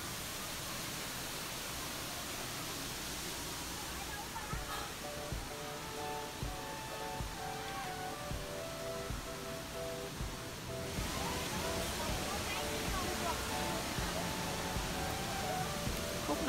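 Continuous broadband rush of the Fresh (Frenn) waterfall in Da Lat, a steady roar heard from a forest trail, growing slightly louder partway through, with faint voices of visitors in the background.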